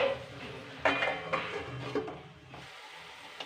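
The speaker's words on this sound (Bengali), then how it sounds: "এবার নেড়ে সিদ্ধ হওয়ার জন্য ঢাকা দেব।" Peas curry stirred in a pan with a metal spoon, a few clinks and scrapes against the pan followed by a lid clattering on, then quieting to a soft low simmer.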